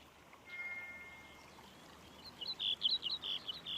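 Recreated birdsong: a faint thin whistle first, then a quick run of bright, high chirps over a soft trickling wash of background noise.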